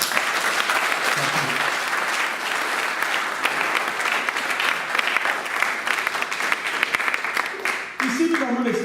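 A church congregation claps in dense, sustained applause, moderately distant and fairly quiet, with scattered sharper claps and some voices mixed in near the end.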